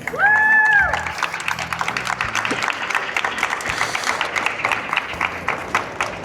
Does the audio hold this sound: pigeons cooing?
no